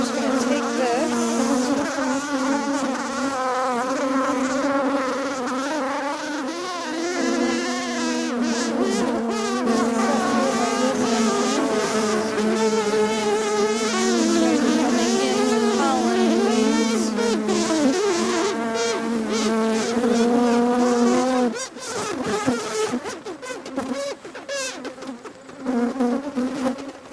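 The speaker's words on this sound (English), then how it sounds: "A lot of bees in here" Dense honeybee buzzing inside a crowded hive, a loud, close, continuous drone with wavering pitch and scattered knocks and handling noises toward the end.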